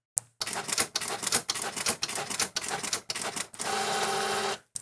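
An Epson EcoTank printer prints a tattoo stencil with rapid mechanical clatter, rhythmic bursts and pauses, then a steadier whir as the page feeds through. It is close and loud with no talking.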